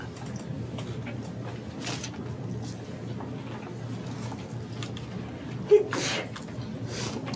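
A single sharp sneeze bursts out near the front of a calculus lecture room at about the six-second mark, standing above a steady low hum of room noise.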